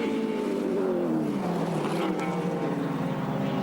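A Nissan Bluebird touring car races around the Surfers Paradise Raceway circuit in a 1983 ATCC round, its engine droning steadily with a pitch that slides gradually lower, moderately distant and continuous throughout.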